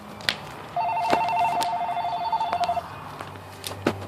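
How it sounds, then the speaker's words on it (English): Indoor telephone ringing with one sustained warbling electronic ring tone near the start, loud and close, with faint thumps and handling noises around it. "Phone call."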